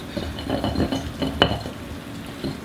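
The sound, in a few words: stirring pesto paste with oil in a mortar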